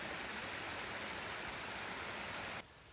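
A stream rushes steadily at a hiking-trail water crossing in the Smoky Mountains, a dense, close broadband wash of flowing water that cuts off abruptly near the end.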